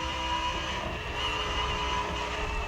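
A car in The Crew Motorfest racing game strains to accelerate, giving a steady, droning engine hum that holds level without climbing, continuous and moderately loud with no talk over it.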